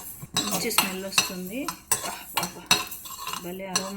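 A spoon scrapes and clinks against a hot pan, stirring roasted spices with repeated close metallic strokes, while someone talks between them.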